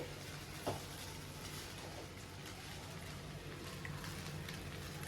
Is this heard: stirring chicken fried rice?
yes